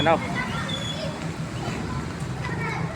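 Rainy-season floodwater turning a street into a river, a continuous rushing and sloshing wash with distant children's voices and people talking over it.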